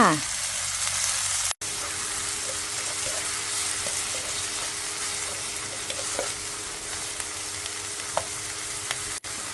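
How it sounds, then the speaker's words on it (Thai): Vegetarian tofu stir-fried in a pan after plain water has been added gives a steady, close sizzle that runs throughout, with occasional small clicks of stirring. "แอดมินใส่น้ำเปล่าลงไปค่ะ"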